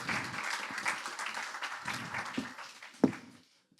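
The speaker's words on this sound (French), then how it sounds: "Oui, on peut les applaudir." Applause from a conference audience honouring climate experts at a climate change event in Pays de Brest, a dense wash of many hands fading out over a few seconds, with one sharp tap near the end.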